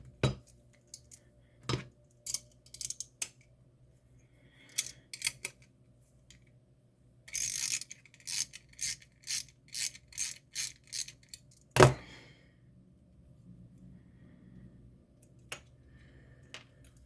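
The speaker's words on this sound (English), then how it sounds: "I need my socket wrench" Socket wrench ratcheting while a 3D printer filament guide is installed: scattered clicks and handling knocks, then a quick burst of about eight sharp ratchet clicks in a row, close up with no talk.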